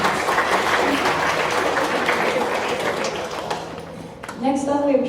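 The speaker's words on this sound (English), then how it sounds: "A final round of applause for our individual winners." Steady applause from a crowd at a secondary school awards ceremony fills most of the moment, then tapers off as a voice begins speaking over the last claps.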